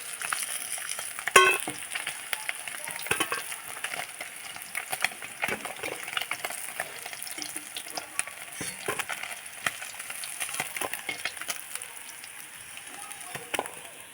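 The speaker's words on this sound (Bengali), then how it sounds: "এবারে যে বাকি মাছগুলো ছিল সেগুলো ভালো করে ভেজে নেব" Remaining shol (snakehead) fish pieces frying in a pan, a quieter, irregular crackle and sizzle with scattered sharp pops and clicks, fairly close and moderately faint.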